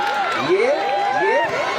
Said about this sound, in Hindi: हाँ, तालियां बजाओ।